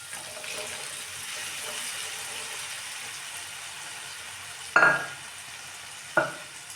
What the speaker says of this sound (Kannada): ಖಾರದ ಪುಡಿ ಧನಿಯಾ ಪುಡಿ ಎಣ್ಣೆಲಿ ಹಾಕಿಬಿಟ್ಟು ಕಾಳು ಹಾಕಿದರೆ ಇದ್ರ ಟೇಸ್ಟ್ ಒಂಥರ ಡಿಫ್ರೆಂಟಾಗಿರುತ್ತೆ